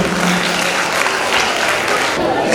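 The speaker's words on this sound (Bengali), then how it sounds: "একটা উষ্ণ করতালি চেয়ে নেব স্যারের জন্য।" An audience at a stage event in Taki gives a short, dense burst of warm clapping for a speaker being welcomed, loud and sustained across the moment.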